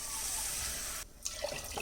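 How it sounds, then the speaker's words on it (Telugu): Water pours steadily into a pot of lentils in a continuous rushing stream, briefly stopping before splashing resumes. "తగినంత వాటర్ పోసుకోవాలి"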